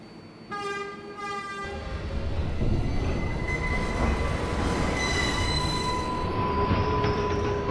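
A Pelham Bay Park bound NYC subway 6 local train rumbles steadily along the track, its wheels squealing with high metallic tones, and the roar swells louder as it picks up speed.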